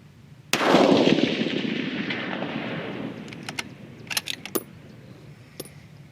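A single rifle shot fired during load testing with a 43.8-grain powder charge, one sharp loud blast with a long rolling echo trailing off, followed by a few faint metallic clinks.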